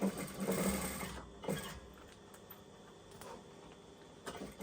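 A sewing machine stitching a pencil case seam runs in a steady mechanical whir, with a brief pause and restart partway through.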